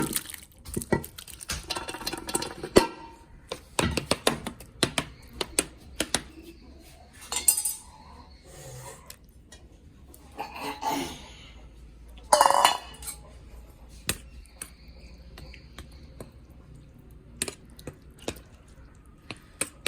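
Metal utensils clink and scrape against a plate and pan as egg roast is transferred, with scattered sharp taps and short bursts of rattling separated by quiet gaps.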